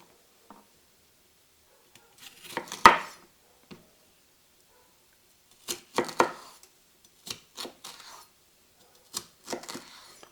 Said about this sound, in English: I love this knife. It is very sharp. It does a very good job of cutting.